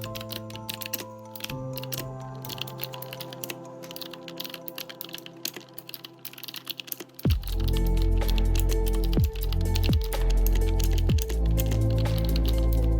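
Fingers tapping out a prompt on a computer keyboard, a steady patter of key clicks first, then heavier, louder keystrokes and thumps with no one talking.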